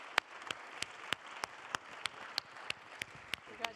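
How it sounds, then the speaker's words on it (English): Applause at an open government awards summit in Paris, heard as sharp, spaced single claps standing out over a faint crowd wash, with a voice speaking briefly near the end. "Round of applause."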